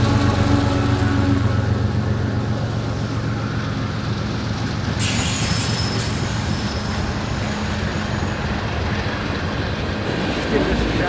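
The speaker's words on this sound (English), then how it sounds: "I think we do got a train." A train rumbles past nearby, a loud, continuous roar of wheels and engine with a rising rattle partway through.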